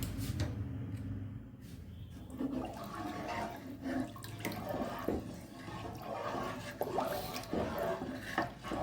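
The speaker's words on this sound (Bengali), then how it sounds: "এই 2 প্যাকেট দুধ দিয়ে দিচ্ছি।" Milk from two packets poured into a pot while making traditional Bengali atta jire payesh, a steady watery splashing and gurgling that runs throughout at moderate level with no talk.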